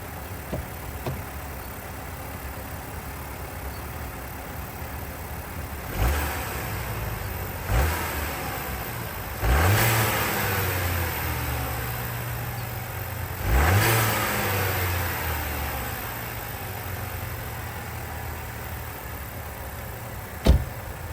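A Mercedes A180 engine idling nearby, then revved a few times in short bursts that rise and fall back to idle.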